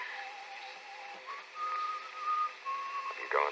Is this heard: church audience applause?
no